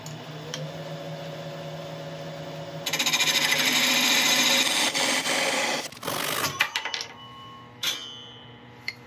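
Lathe-turned greenheart and purpleheart mallet being slit with a saw, a steady machine whir with a denser scraping burst midway, then scattered knocks and clatter as it winds down.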